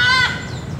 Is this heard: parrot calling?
yes